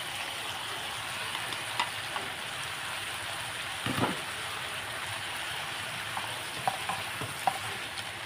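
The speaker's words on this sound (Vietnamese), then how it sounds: "bây giờ mình sẽ đổ phở vô mình xào cái nữa là xong rồi các bạn" Pho noodles and beef stir-fried in a pan, giving a steady close sizzle with scattered soft clinks and scrapes of stirring.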